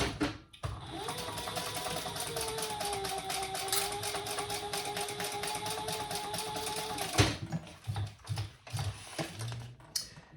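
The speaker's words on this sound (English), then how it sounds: "we're going to sew those together at the seam allowance in the pattern." A sewing machine runs a long continuous stitch along a bag gusset seam, a steady whirring buzz for several seconds, then stops with a few clicks and handling knocks.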